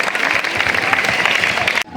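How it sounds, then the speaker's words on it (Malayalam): Crowd applauding at a school sports day inauguration, a loud, continuous burst of clapping that cuts off abruptly just before the end. "നല്ലൊരു ക്ലാപ്പ് ചെയ്ത് കൊടുക്കും."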